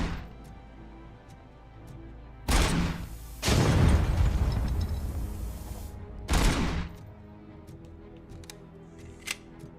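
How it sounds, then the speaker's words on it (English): Gunfire aimed at boxes in RoboCop: Rogue City, loud rapid bursts in three clusters, the longest lasting a couple of seconds, with quieter pauses between them. "I guess I'm supposed to be shooting these boxes then."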